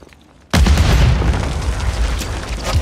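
After a moment of quiet, a frag grenade goes off in Call of Duty MWIII multiplayer: one sudden, very loud blast with heavy low-end rumble that stays roaring and crackling for a couple of seconds.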